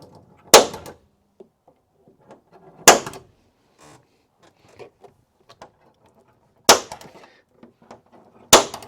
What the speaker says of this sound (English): Popper tool.